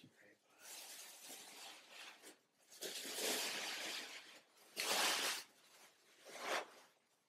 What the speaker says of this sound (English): Let's have a look and take off this tissue paper